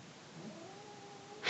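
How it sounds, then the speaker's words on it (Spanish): Two cats fighting give a brief, drawn-out caterwaul, one tense wavering yowl that ends in a sudden loud hiss or screech. "Están mis gatos peleándose."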